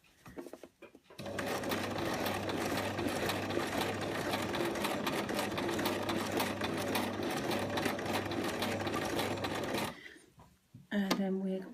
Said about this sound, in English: now we're just going to hold the top thread so it doesn't get caught up, and then begin stitching in